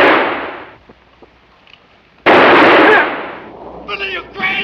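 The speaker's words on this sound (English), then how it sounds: "All this shooting, and he ain't even touched him yet." Gunshots in the 1961 western The Deadly Companions, two loud, close blasts with a quiet stretch between them, followed by brief voices.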